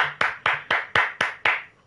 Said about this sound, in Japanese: 一回拍手しとくわ、ハヤトハヤトハヤトに。